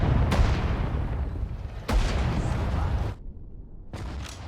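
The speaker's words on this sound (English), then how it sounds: "We're being hit by like some form of artillery at the moment." Artillery shells burst in the World War II strategy game Sudden Strike 4 during the German Operation Barbarossa campaign: three loud, sharp booms with rumbling tails, spaced over a few seconds.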